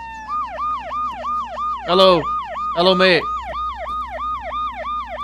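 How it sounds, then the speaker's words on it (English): A warbling, wailing police car siren in the military video game Arma 3 loops steadily and loudly, while a man calls out a greeting over it twice. "Sounds like he's got a toy police car."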